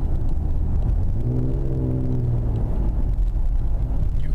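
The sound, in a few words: Ford Explorer Sport Borla exhaust, quieter in drive mode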